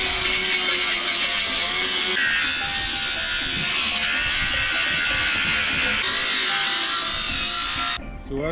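A grinder works on an aluminum dinghy davit, stripping paint with a loud, continuous high buzzing whine that shifts pitch as it bites, close up, ending abruptly near the end.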